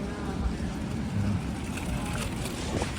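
A tractor aerating the grass on the lawns of King's College, Cambridge, gives off a steady low engine rumble with some wind buffeting the microphone, heard from outdoors at moderate distance.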